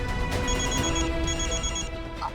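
Telephone ringing after a call is dialed by accident, a steady repeating electronic ring tone heard over a constant background hum, with no voices during the ring.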